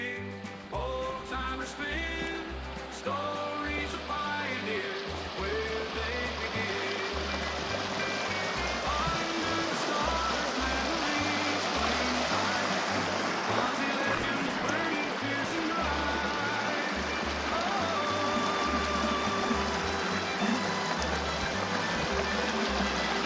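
The river at Lerderderg, Victoria rushes in a steady broadband wash, with a low rhythmic thumping underneath, continuous and moderately loud with no voices.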